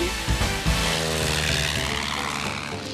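A propeller airplane drones overhead above the Amazon rainforest, a steady engine hum with a thrumming low tone that holds at even loudness throughout.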